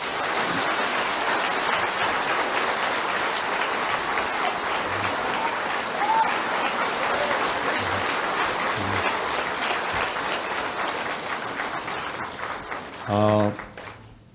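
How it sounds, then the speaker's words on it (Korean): A large church audience applauds loudly and steadily for most of the clip, a dense wash of clapping that thins briefly near the end. "뜨거운 박수로 환영하겠습니다."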